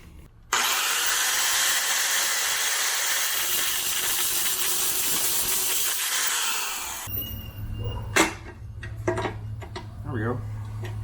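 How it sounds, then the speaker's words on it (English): Angle grinder cutting into the radiator bracket of a turbo BMW E36, a loud, sustained high-pitched whine and hiss for about six seconds, then the motor spins down into clanks, knocks and metallic handling noises. "I had zero intentions on using an angle grinder on my radiator."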